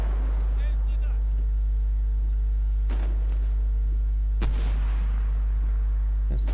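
Gunfire in the shooter game Medal of Honor: Warfighter, with a few sharp reports spaced apart over a low steady hum while someone talks over the game sound.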